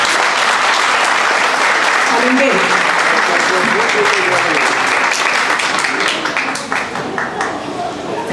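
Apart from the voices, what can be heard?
audience applause at a school event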